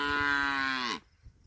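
A cow in a corral gives one long, loud moo lasting about a second, then stops abruptly, leaving quiet background noise.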